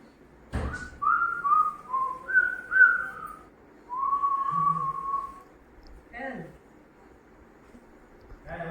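Someone whistles a few short, clear tune fragments nearby, with brief pauses between phrases and a couple of soft knocks.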